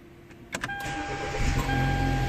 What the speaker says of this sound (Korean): 버튼을 누르면 어때요? 시동이 걸리죠?